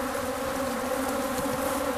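A swarm of killer bees buzzes in pursuit of researchers walking away, a dense, steady, loud drone that stays constant throughout with no talk.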